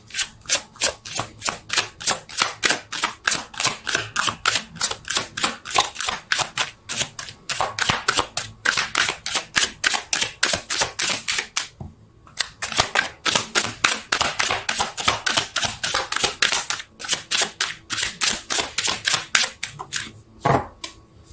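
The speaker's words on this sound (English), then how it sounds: "Let's see if I can shuffle." A deck of tarot cards being shuffled, with rapid, crisp riffling flutters repeating in steady bursts close to the listener, pausing briefly a few times, and no voice present.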